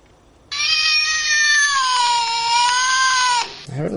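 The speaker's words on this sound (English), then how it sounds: "What sound does a cat make?" A phone's voice assistant plays a recorded cat meow: one long, loud, wavering yowl lasting about three seconds, followed by a brief rustle.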